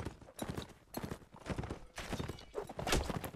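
Horse hooves clip-clop in rapid, uneven bursts during a multiplayer battle in the video game Mount and Blade: Warband, close up and fairly loud, with a whinny-like cry among them.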